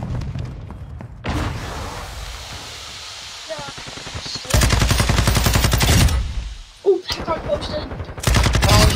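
Rapid automatic gunfire and bursts of shots in a first-person shooter video game, loud and close, coming in long sustained volleys with short pauses between them.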